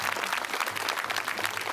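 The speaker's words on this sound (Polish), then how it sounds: "Zasłużyli na brawa" A film audience applauds the cast, fairly loud, dense clapping from many people that carries on without a break, with a faint low hum underneath.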